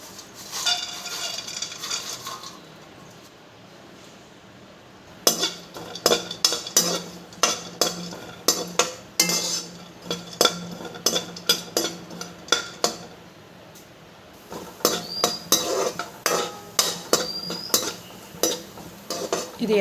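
Cashews stir-fried in ghee in a kadai, with a spoon scraping and clinking against the metal pan in irregular bursts and a faint sizzle beneath, close and fairly quiet with pauses between stirs.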